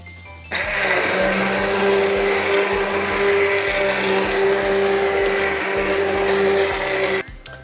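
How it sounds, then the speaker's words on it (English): Blender blitzing chicken, potato and leek soup, a loud steady motor roar that starts abruptly, runs for several seconds and then stops. "what we're going to do is give it a blitz"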